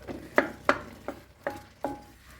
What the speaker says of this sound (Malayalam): ഇത് നന്നായിട്ടൊന്ന് ഉടച്ചു കൊടുക്കാം